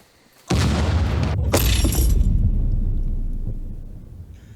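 An explosion in the survival video game SCUM bursts in suddenly after a quiet moment, a loud booming blast with crackling debris that rumbles on and slowly fades over several seconds.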